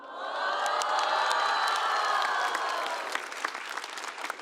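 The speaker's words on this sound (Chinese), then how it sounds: "你们大部分人会后悔这个鼓掌。" An audience at a stand-up comedy show breaks into loud, sustained applause with scattered cheers that gradually thins out toward the end.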